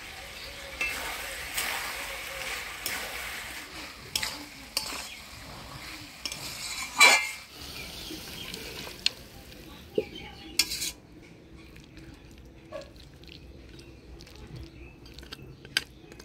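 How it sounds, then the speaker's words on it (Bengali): A fish head curry seasoned with garam masala is stirred in a pan, a spoon scraping and clinking against the metal in irregular strokes over a soft, continuous sizzle, with a louder clatter midway and lighter taps afterward. "মাছের মুড়া দিয়ে ভালো করে নাড়াচাড়া করে নিলাম। এবার অল্প গরম মশলার গুঁড়া দিয়ে নাড়াচাড়া করে নামাই দেব।"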